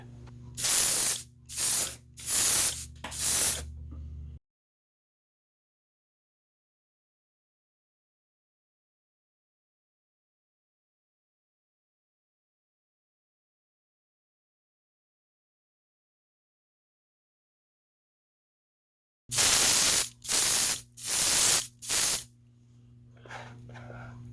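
Short spray bursts from weathering a model locomotive: a group of four quick hissing passes, a long silence, then another group of four passes, close and loud with no talking.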